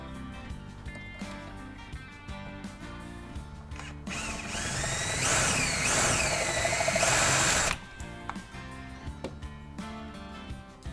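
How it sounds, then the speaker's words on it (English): A power drill whines up and grinds steadily for a few seconds drilling out a rivet on a caravan bed bracket, then cuts off abruptly, with quieter workshop sounds before and after. "Drilling it out will release the remainder of the rivet."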